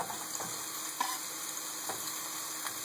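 Jalapenos for carnitas tacos fry in a pan with a faint, steady sizzle, and occasional light stirring scrapes sound through it.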